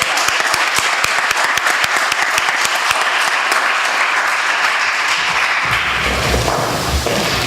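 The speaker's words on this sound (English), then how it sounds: "please join me in giving him a very big applause" A conference audience applauds a guest, loud, dense clapping throughout with some crisp individual claps, swelling toward the end as a low rumble of movement enters.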